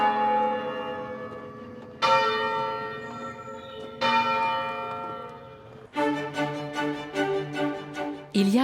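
English church bells rung in changes, loud, rich metallic strikes with long ringing overtones, bold peals arriving in waves around every two seconds, then a quicker, denser run of strikes near the end, with no voices.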